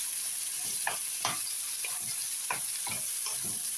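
Chopped tomato is fried into a sautéed mixture in a pan, producing a constant close sizzle broken by irregular stirring clatters and scrapes, with no voices.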